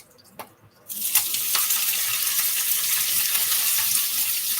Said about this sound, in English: Now the vegetable is added.